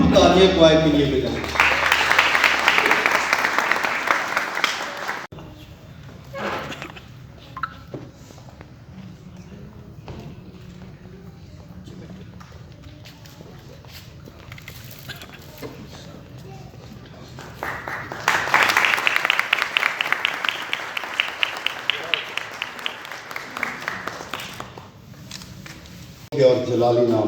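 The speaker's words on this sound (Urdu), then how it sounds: "آئیے بھرپور تالیاں کوائر کے لیے بجائیں۔" An audience applauds the choir at a Christmas celebration in a church at Raja Bazar, loud bursts of clapping at the start and again later, separated by a long stretch of quieter talk and murmur.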